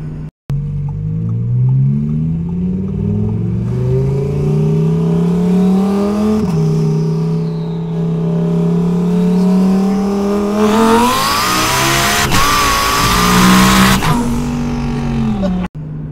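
Twin-turbo Audi R8 engine pulling hard through rising revs with gear changes, loud and close, ending in a louder high-rev surge with whooshing turbo sound before cutting off abruptly.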